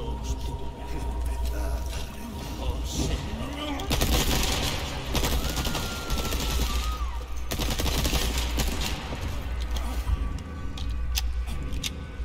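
Rapid gunfire from Resident Evil 4 Remake crackles through a busy game mix for about twelve seconds, with bursts of shots over background effects and occasional voices.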